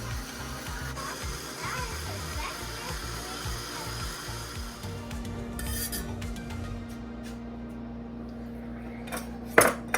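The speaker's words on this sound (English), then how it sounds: "then we just turn it on medium-high and let it whisk up into a thick whipping cream until it forms stiff peaks" An electric mixer whips vanilla cream on medium-high toward stiff peaks, a steady motor whine running throughout with a rattle of bowl and utensils, faint background voices, and a sharp clink near the end.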